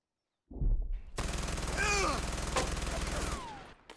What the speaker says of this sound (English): one gets shot by another MG